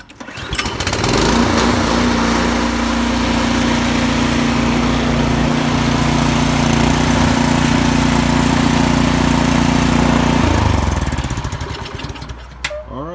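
A Troy-Bilt Storm 2410 snowblower engine starts up and runs steadily and loudly for about ten seconds, a small engine's high buzzing drone with a strong steady tone, then cuts back toward quiet at the end.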